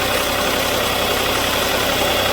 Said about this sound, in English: This engine sure is noisy.